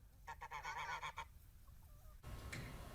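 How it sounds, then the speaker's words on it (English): A goose honks loudly in a rapid series of brassy calls close by, followed by a brief pause and another faint honk over steady background noise. "The goose is named Bop Bop, by the way"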